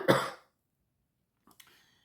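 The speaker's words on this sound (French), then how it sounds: "ça y est, je tousse" A single loud cough or throat-clearing bursts out close to the mic and dies quickly, followed after a pause by a brief faint rustle, then silence.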